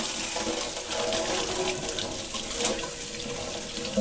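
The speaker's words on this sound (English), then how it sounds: "All right, so we're gonna give this a rinse." Tap water runs steadily into a sink to rinse salt-cured salmon, a continuous close splashing hiss with no talk.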